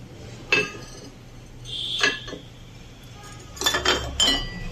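Ceramic printed dinner plates from a 32-piece set clink together as they are handled, a few bright separate knocks and rattles with quiet gaps between them.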